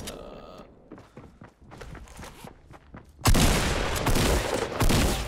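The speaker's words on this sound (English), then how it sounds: "Shotgun, go." Shotgun fire in Fortnite Battle Royale: faint clicks and steps give way to a sudden loud blast, followed by a dense stretch of sustained booming and crackling gunfire.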